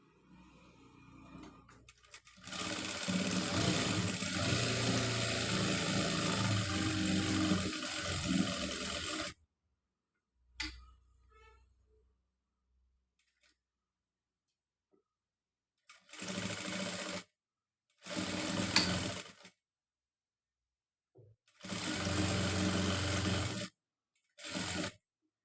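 A sewing machine stitches a nighty frock in a long steady run, then in several shorter bursts separated by brief pauses. The whirring is close and clear with no talk.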